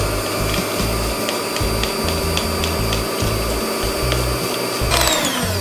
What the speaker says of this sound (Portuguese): Então agora a gente desliga a batedeira.